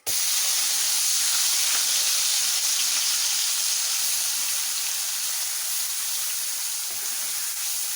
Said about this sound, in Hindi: और साथ ही इसमें अब हम ये प्याज डाल देंगे।